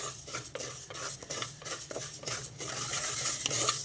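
A utensil scrapes and stirs split moong dal dry-roasting in a pan over low heat, a quick irregular series of dry scratchy strokes close up, with no voices.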